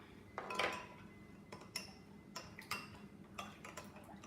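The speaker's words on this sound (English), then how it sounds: "Keep stirring until it's fully dissolved." A spoon clinks and scrapes against a glass in a series of irregular taps while stirring an ingredient into water for winemaking, quiet and close, with no voices.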